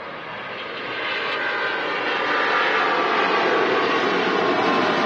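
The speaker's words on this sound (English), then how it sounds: "There he goes, the Emirates A380 heading back to Dubai," An Emirates Airbus A380 takes off at Manchester Airport, its jet engines giving a loud, sustained roar with a broad hiss that builds slightly and holds steady.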